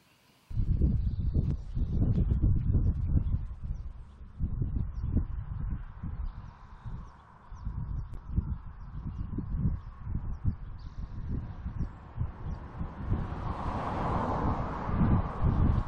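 Cold wind blowing under a tree outdoors on a farm during plein air painting, heard as a steady, gusty low rumble buffeting the microphone for the whole stretch, with no talk.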